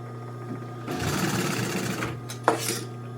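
A sewing machine fitted with a welting foot, sewing car upholstery for a 1955 Chevy two-door post, runs a quick burst of stitches for about a second, followed by a brief mechanical clunk.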